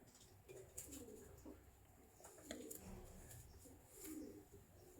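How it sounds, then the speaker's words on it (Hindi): Breeder pigeons in a loft coo softly at close range, low murmuring calls repeating over faint background noise. "ये ब्रीडर कबूतर है"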